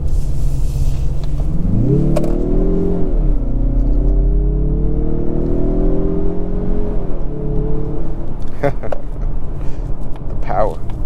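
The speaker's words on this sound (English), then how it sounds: "The moment you plant your foot on the accelerator, it just takes off." A 2023 Mazda CX-30 Turbo Premium Plus accelerating hard, its engine note rising and sweeping up through the gears under a constant loud cabin rumble, with brief clicks and noise near the end.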